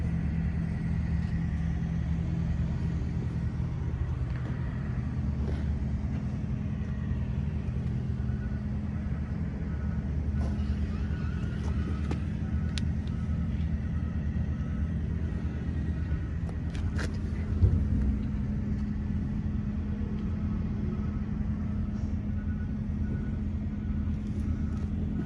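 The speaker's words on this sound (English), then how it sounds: "it's got a nice sounding dual exhaust on it" A 1964 Chevrolet Impala SS with a 409 V8 rumbles at idle through its dual exhaust, a steady low throaty drone heard up close without a break.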